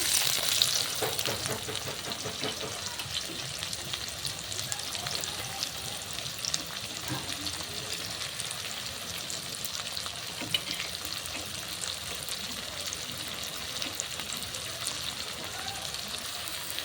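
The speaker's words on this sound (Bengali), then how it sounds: "একটু হালকা নাড়াচাড়া করার পর এবার দিয়ে দিচ্ছি কেটে রাখা পেঁয়াজগুলোকে" Chopped onions sizzle in hot oil for a rohu fish curry, a dense, continuous crackling hiss that starts slightly louder and then settles to a steady level with faint stirring beneath, close up and without talk.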